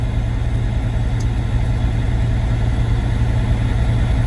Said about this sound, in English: We're putting one on at 1300 RPM.